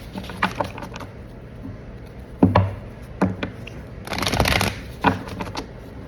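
Tarot cards being shuffled by hand, heard as a run of crisp riffling bursts and soft taps at an uneven pace, close and fairly loud, with no talking.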